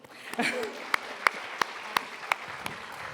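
Scattered, sparse clapping from a small audience at a Barnard Center for Research on Women event, several distinct isolated claps spaced out after a brief voice, fading quickly.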